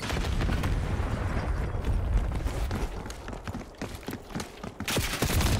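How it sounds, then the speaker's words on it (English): A grenade explodes during Black Ops 6 beta team deathmatch, a heavy blast amid dense ongoing gunfire and running footsteps, with a fresh loud burst near the end. "Oh, grenade."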